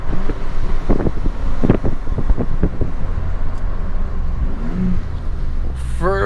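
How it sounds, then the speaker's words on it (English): A car with a loud aftermarket exhaust downshifting, engine rising and falling in short revving bursts close by, with wind buffeting the microphone and a brief burble near the end. "All right, little downshifts."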